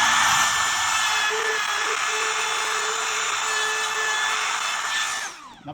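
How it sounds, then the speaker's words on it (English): A router cuts a hinge recess into a wooden door frame, a loud, steady high-pitched whine that runs unbroken for about five seconds before spinning down at the end. "So just gonna route this."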